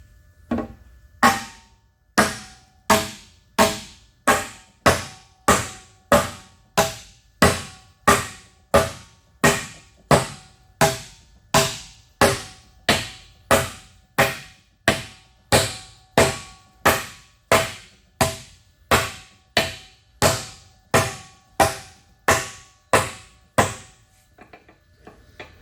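A hammer taps down the crank on a Kasto EBS 400 power hacksaw being rebuilt, a long, steady series of about thirty sharp metallic blows at an even pace, close and clear with no talking.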